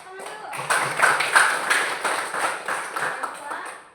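Schoolchildren in a classroom clap their hands together, a burst of fairly loud, uneven clapping with some rhythmic accents, mixed with young voices talking and calling out over it.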